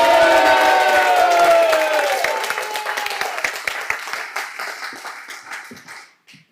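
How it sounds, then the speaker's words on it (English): A conference audience applauds to welcome the first speaker onto the stage, the clapping starting full under a sustained musical tone and then thinning into scattered claps before fading out. "Welcome with the loudest round of applause our first speaker, Abhijit Sansgiri"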